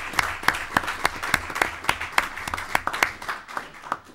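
Audience at a state LEGO championship in Londonderry, New Hampshire applauding, a steady patter of many hands with sharper individual claps standing out across the room.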